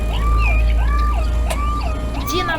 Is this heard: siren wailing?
yes